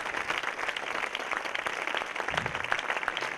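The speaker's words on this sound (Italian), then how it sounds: "Fate loro l'applauso che avreste voluto fare a scena aperta" Audience at an Italian book presentation applauding performers, a dense, moderately loud patter of many hands clapping throughout, with no talk over it.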